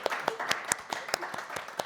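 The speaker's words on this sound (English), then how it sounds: "Can we just give a round of applause for Bree and Vladdy" Audience applause at a poetry performance, a steady patter of many hands clapping close by, with sharp individual claps standing out throughout the short burst.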